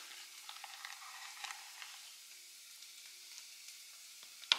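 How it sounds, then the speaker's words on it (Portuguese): A spoon stirs cornstarch into milk, giving faint, sparse scraping and soft ticking strokes against the container in a quiet room, ending with a single sharper clink. "tô dissolvendo, tá? O amido aqui no leite"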